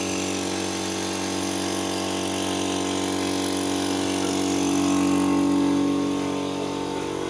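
Electric motor of a penoizol foam insulation machine running steadily, a constant droning hum with tonal whine, close and even, swelling slightly near the end.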